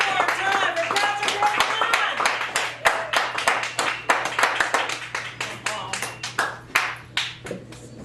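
Audience at a poetry open mic in a café gallery claps for a featured poet, a lively burst of close hand clapping that thins and tapers off near the end, with a low steady hum beneath.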